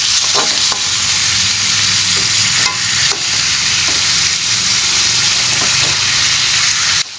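Chicken frying in a pan in its own released fat, a loud continuous sizzle with occasional stirring scrapes and clicks, close up and without voices.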